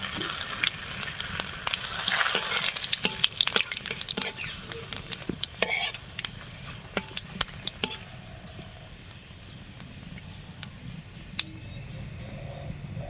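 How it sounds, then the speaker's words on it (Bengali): Panch phoron, dried chillies and bay leaves sizzling in hot oil, with a crackling hiss and scattered sharp pops that are busiest early on, then ease to a quieter fizz. "তেল গরম হয়ে গেছে ফোড়নের জন্যে আমি এক চামচ পাঁচ ফোড়ন চারটে শুকনো লঙ্কা আর তিন টুকরো তেজপাতা"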